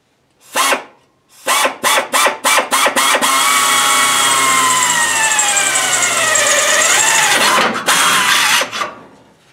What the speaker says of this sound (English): I can snap the center mark for the hole that I need to drill, and then start working that hole up to size